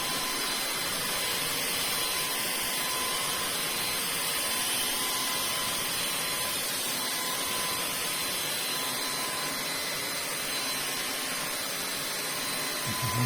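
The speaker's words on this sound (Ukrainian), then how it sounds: "вмикаємо пилосос і вмикаємо ваги. І імітуємо прибирання." A Samsung Jet75 cordless stick vacuum cleaner runs steadily throughout, a continuous close whine and airflow hiss held at constant loudness with no pauses and no talking.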